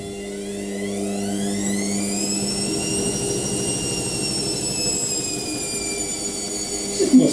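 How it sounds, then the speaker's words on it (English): An Indesit IWME146 integrated washing machine pump runs with a steady drone and a whine rising then levelling in pitch, ending in a few clunks. "I do like the pump going off though, it's an interesting thing."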